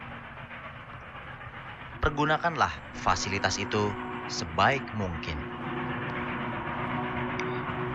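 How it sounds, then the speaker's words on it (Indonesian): An electric commuter train in Jakarta gives off a steady, close rolling rumble and hiss throughout, with a voice making an announcement over it. "Kereta listrik adalah salah satu transportasi umum yang ada di Jakarta."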